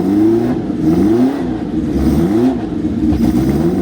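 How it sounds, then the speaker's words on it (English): Porsche 910 long-tail race car at a concours event, its engine loudly revving in repeated rising and falling sweeps, close and continuous with no talking. "Porsche long tail, I think it's a 910."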